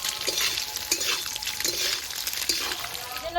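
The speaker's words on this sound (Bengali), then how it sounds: "একটা ডিমকে ভেঙে ভালো করে ভেজে নিয়েছি।" A beaten egg fries in a pan with a soft, crackling sizzle punctuated by scraping and stirring strokes, close but fairly quiet.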